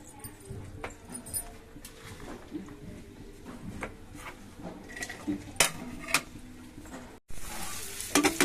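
Bitter gourd pieces frying in oil in a pan, a steady low sizzle broken by metal spoon clinks and scrapes. A short break is followed by louder sizzling at the end.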